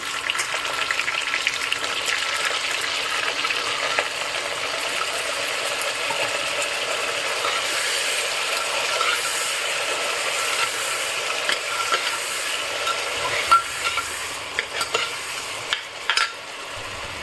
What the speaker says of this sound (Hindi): सब्जी भून रही है